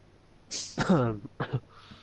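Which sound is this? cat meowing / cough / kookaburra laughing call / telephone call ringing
cough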